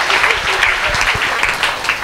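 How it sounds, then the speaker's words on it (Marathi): A church prayer-meeting congregation in Naigaon claps loudly together, a dense, sustained wash of applause that fills the room at close range from start to finish. "तुम्ही सर्वांनी जोरात टाळ्या वाजून प्रभू येशूला धन्यवाद द्या"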